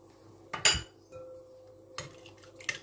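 A spoon stirs baklava dough with butter in a bowl, giving a sharp clink and scrape, a soft pause, then more light clinks and taps of metal on the bowl, close and clear.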